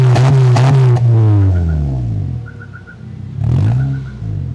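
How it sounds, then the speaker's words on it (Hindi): A modified 2008 Honda Accord with an aftermarket muffler revs hard, two sharp throttle blips followed by a falling exhaust drone, then another rev swelling and fading, loud and close with a brief faint beeping between. "इससे जो एग्जस्ट की साउंड है वो भी काफ़ी मस्त बन जाती है"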